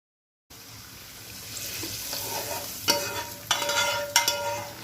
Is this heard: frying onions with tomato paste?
yes